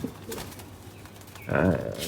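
A pigeon gives one short, close coo near the end, over a low, faint background hum among birds kept in a loft.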